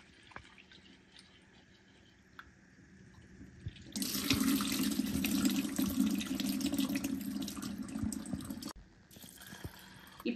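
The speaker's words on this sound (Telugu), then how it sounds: "ఒక బౌల్‌లో ఒక కప్పు పప్పు తీసుకొని 2 టైమ్స్ బాగా వాష్ చేయండి" Toor dal, one cup, being washed in a bowl with water: a steady rush of running, sloshing water fills several seconds in the middle, with quieter kitchen handling before and after.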